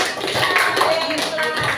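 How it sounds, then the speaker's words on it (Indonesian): Applause from a gathered audience at a school gathering: a steady wash of hand clapping, fairly loud and continuous, with some voices mixed in. "Tepuk tangan buat kita semua"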